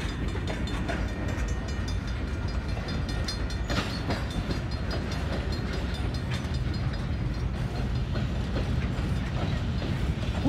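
Close railcars pass steadily through New Orleans' French Quarter by the river, giving a sustained heavy rumble with repeated clickety-clack from the wheels and a few sharper metallic knocks.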